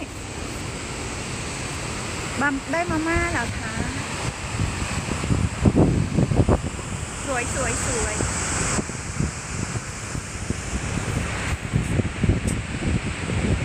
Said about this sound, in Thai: เสียงน้ำตกเสียงดังค่ะ